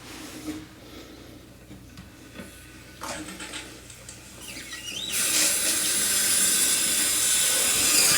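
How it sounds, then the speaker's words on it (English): Water turned back on to refill a toilet tank: faint clicks and a squeak from the valve, then a loud steady rushing hiss of filling water that continues to the end. "Now I'm going to turn the water back on."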